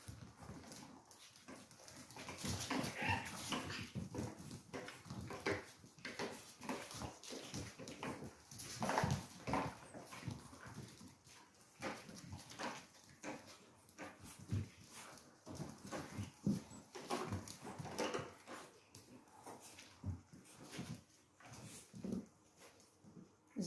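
Puppies whimper and shuffle about in their pen during cleaning, with soft intermittent whines and scuffling movements over a low background hum, fairly faint throughout.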